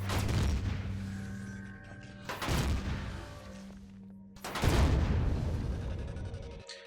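Plasma cannon firing in Empyrion Galactic Survival against sentries, heavy booming blasts arriving in three loud waves with long rumbling tails and a steady electronic hum between them.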